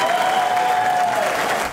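Crowd applauding at a border security summit hosted by a state governor, steady dense clapping throughout with a faint sustained tone running beneath, tapering at the end.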